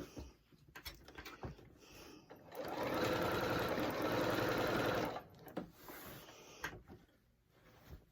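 A Singer 8500Q sewing machine quilts circles on a small baby quilt, giving a steady close whirring stitch run of about two seconds, with scattered handling clicks and fabric shuffling before and after.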